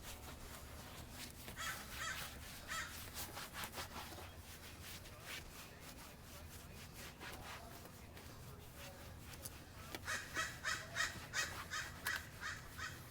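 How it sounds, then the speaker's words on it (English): Crows cawing outdoors in the background, scattered harsh calls with a louder burst near the end, over faint rubbing and shuffling close by. "Sounds like we have birds in the background that want to play with us today"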